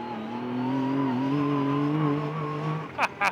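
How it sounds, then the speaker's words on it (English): A 2024 Yamaha YXZ sport side-by-side with a triple-cylinder engine runs at a steady, loud, close rev that climbs slightly, then cuts off. Two short sharp bursts follow. No one speaks. "This triple cylinder, yeah, it just sounds so aggressive"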